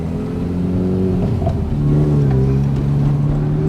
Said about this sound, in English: How's that rev hang on between gear change?